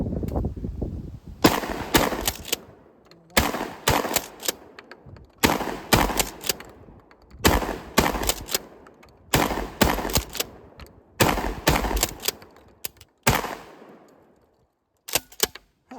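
Bullpup shotguns, a KSG-12 and a Standard Manufacturing DP-12, firing outdoors. Sharp, loud blasts come in paired bursts at regular intervals, and one late shot stands alone.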